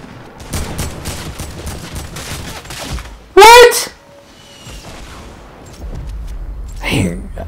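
Rapid AK assault rifle fire in Fortnite, a quick run of sharp shots with one loud burst near the middle and another later on, mixed with other game sounds and a voice talking over it.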